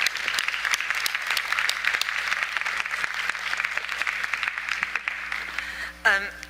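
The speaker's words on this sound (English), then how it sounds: "giving a round of applause to our discussants" An audience at a plenary conference session applauds the discussants, a crisp round of clapping in a large hall that thins toward the end, followed by a brief voice.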